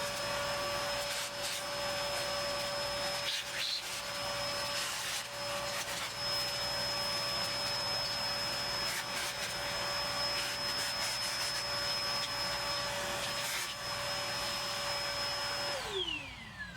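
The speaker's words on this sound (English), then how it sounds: "I'm going to go grab the vacuum cleaner." A vacuum cleaner runs steadily inside an open Sony TC-WR710 cassette deck during a belt replacement, a constant close whine and rushing hiss with scraping rubs, cutting off and winding down near the end.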